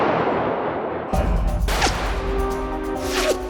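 A single loud, close gunshot from a gun fired level off a gun rest, followed by a sustained rumbling echo and a descending whistle-like tone.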